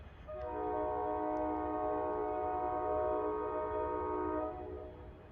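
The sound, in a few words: loud horn of NJT train 234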